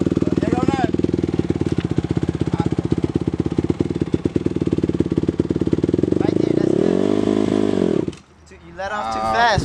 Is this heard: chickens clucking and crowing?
no